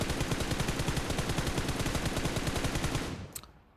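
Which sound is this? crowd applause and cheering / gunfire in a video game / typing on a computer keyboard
gunfire in a video game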